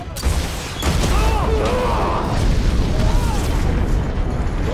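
An RPG rocket strikes a car in a film scene, setting off a loud explosive blast. The booming burst is followed by sustained rumbling debris noise and crackling.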